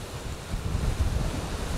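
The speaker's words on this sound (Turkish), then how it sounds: "Sağanak yağmur ve fırtına." Storm with heavy rain, wind and waves in İzmir, a dense, loud roar of wind and surf with a rumbling low end, continuous across the short stretch with no voices.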